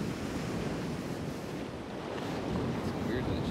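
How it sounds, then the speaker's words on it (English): Ocean surf washes onto a sandy beach in a steady, broad hiss, with wind buffeting the microphone throughout. "the water and the waves make it."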